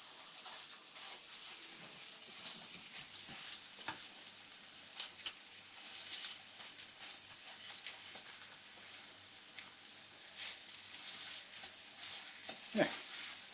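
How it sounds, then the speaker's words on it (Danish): Minced meat for meatballs sizzles and spits in melted butter in a frying pan, a steady close crackle with scattered pops and scraping stir sounds, no voices. "Imens kan vi lige tage en god klump fars her. Og så putte det ned på panden."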